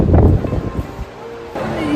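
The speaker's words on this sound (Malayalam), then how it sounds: "അങ്ങനെ ഗോവയുടെ കാറ്റടിച്ചിരിക്കുകയാണ്" Gusty wind outside Goa airport buffets the microphone with a loud, rumbling roar that eases briefly midway and then swells again.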